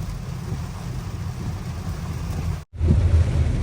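Heavy rain pouring onto a road near farm fields at dawn, a dense steady roar with low rumble, close and loud, briefly cutting out before resuming heavier.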